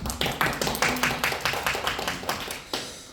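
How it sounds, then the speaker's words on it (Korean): A church youth congregation clapping in unison during a live worship service, a steady rhythmic series of about a dozen sharp group claps, evenly spaced and fairly loud, with no talk over them. "오늘 찬양 가운데 함께 하실 주님 앞에 영광의 박수 올리겠습니다."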